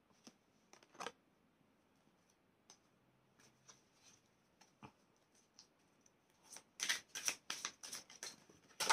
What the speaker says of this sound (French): Simba, il y a des cartes qui ont volé.